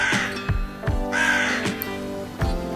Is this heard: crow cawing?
yes